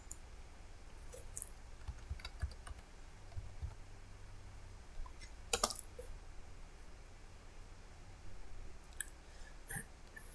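A command typed on a computer keyboard to run a Java jar file, faint scattered key clicks with a short burst midway, close but quiet against a low hum.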